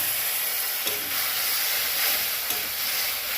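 Ginger and tomato paste with a splash of water stirred in a pan for a potato and soybean dish, giving a loud steady hiss and sizzle with a couple of faint utensil taps.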